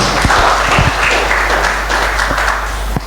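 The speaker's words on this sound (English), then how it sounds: "Clap for this para, please." An audience claps through a governance lecture, a dense wash of hands with a few sharper close claps standing out, continuing evenly for a few seconds with no talk over it.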